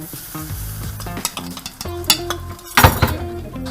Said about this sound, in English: I got the tofu back on the pan, and now I'm going to go ahead and put the sauce in